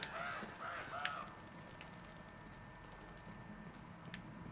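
Crows in the video game Uncharted 2: Among Thieves give a quick cluster of caws at the start, then only faint ambient game sound with a sustained thin tone and one late click.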